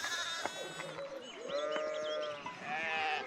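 Sheep bleat in the medieval game Pentiment, several wavering cries overlapping at close range with faint background sounds and no talking.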